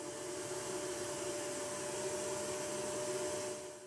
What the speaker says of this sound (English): then vacuumed out all the residual dust